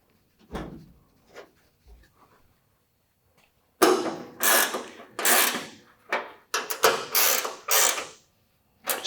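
A ratchet wrench snugs bolts on a custom brake pedal assembly for a 1966 GMC, a run of loud, close clicking ratchet strokes after a few faint knocks and a near-silent stretch.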